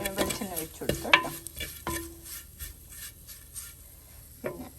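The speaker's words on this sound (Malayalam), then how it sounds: "ലോ ഫ്ലെയിമിൽ വെച്ചിട്ട് 2 മിനിറ്റ് ഒന്ന് നമുക്കിങ്ങനെ ഇതെല്ലാം കൂടെ ഒന്ന് വഴറ്റിയെടുക്കാം" Spice powder being stirred and sautéed in coconut oil in a pan over low flame for a potato stew, with scraping spoon strokes and brief clatters over a faint sizzle, fairly close.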